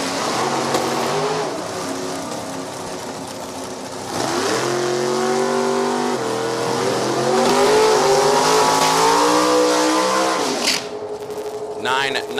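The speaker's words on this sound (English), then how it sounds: "81 Camaro out of Oklahoma, Peter Gahan. 68 Camaro Roadster over on the right side." Drag race between an '81 Camaro and a '68 Camaro Roadster at an NHRA Division 4 event at No Problem Raceway, engines revving hard with rising harmonic whines up close, while an announcer talks over the loud roar.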